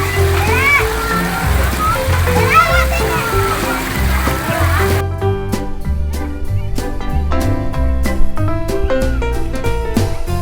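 Children swim and splash in pool water at an outdoor water park in Bogor, with lively sloshing and splashes under excited kids' voices and chatter, then music-like clatter.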